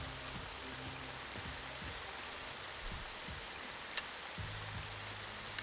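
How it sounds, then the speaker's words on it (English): Steady rain in the video game EverQuest forms a constant, fairly loud wash of broadband hiss with no breaks, joined by faint scattered low knocks and thuds. "this rain might be a little bit too loud"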